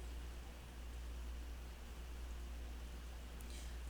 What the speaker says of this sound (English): my window is open and it's raining